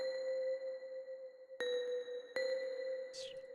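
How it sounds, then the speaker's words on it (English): A synthesized Astral Caverns preset on a virtual instrument sustains bright steady tones, struck twice by sharp icy impacts that refresh the shimmer, with a brief glassy sweep near the end and no talking. "It's got that like icy impact kind of sound, you know?"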